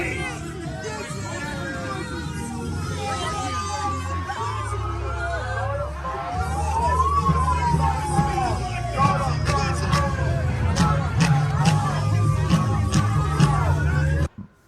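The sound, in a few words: crowd hubbub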